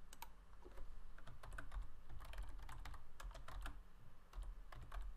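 Fingers type on a computer keyboard in quick irregular bursts of close, crisp key clicks, with short pauses between runs and no voices.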